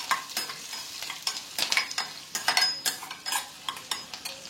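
Onions sizzle and crackle in a hot pan, with repeated scraping and stirring strokes of a spatula against metal, close by and fairly busy.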